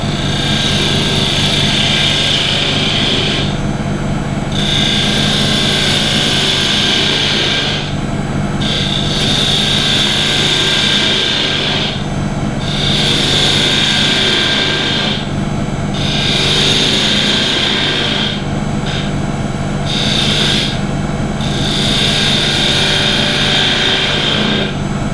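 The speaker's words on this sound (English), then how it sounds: "I'm going to just take my fingernail gouge and cup off the end here." Fingernail gouge cutting the end of a wooden kendama on a lathe, a steady loud motor whine with hissing cutting passes that come and go in bursts, no talk.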